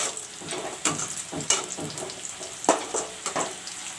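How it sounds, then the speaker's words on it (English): Onions fry in hot oil, sizzling steadily with a bright hiss. Sharper crackles and stirring scrapes recur irregularly, heard close and fairly quiet with no talk. "Now I will fry up the onions first."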